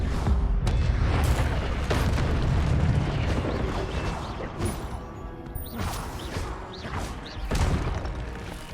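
The Incendio fire spell is cast in the video game Hogwarts Legacy, producing loud, repeated whooshing bursts and booming impacts over a dense combat rumble.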